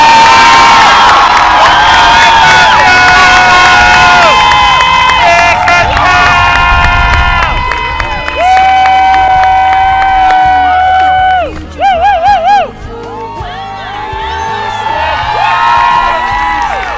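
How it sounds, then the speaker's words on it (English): A large crowd at a high school graduation ceremony cheers, whoops and shouts loudly and continuously, a dense roar of voices with excited screams rising above it. "Round of applause!"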